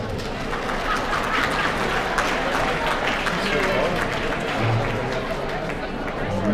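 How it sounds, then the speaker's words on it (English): Audience applause at a Tucson heart-ball gala, a dense, even roar of clapping and crowd noise filling the hall, sustained throughout with faint voices mixed in. "give yourself one big last round of applause."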